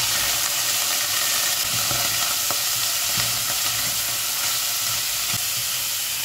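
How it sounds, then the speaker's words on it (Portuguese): Boiled dried beef (carne seca) sizzles steadily as it sautés in a pan, a continuous broadband frying hiss with occasional soft stirring clicks, close and alone. "Então eu vou refogar primeiro essa carninha aqui"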